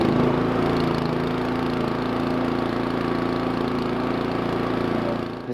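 A salvaged walk-behind roller's small engine runs steadily nearby, a continuous loud droning rumble with no pauses and no talking.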